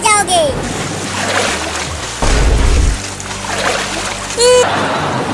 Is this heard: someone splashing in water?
yes